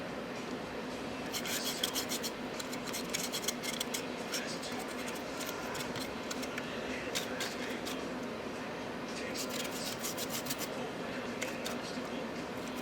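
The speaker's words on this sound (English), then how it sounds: "I'm going to take a larger brush here and apply the chalks to the walkways" A larger brush rubs weathering chalks onto the walkways of a model tank car, making a faint, continuous scratchy rasping with brief bursts of quick strokes, close up.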